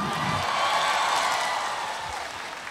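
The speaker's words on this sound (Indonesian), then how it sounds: "Tepuk tangan dong." A crowd at a 2019 live rock concert claps and cheers, a broad, continuous roar of applause that swells and then eases slightly, with no talking over it.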